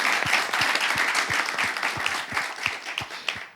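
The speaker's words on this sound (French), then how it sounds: "On applaudit pour Ahmed Adam" Audience applause at a French-language talk show, a steady crowd of hands clapping continuously with sharp individual claps standing out, fairly close and loud.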